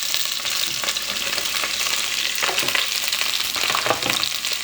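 Carrots, celery and shallot fry in warm oil with a dense, continuous sizzle and occasional stirring scrapes, close and loud without any talking.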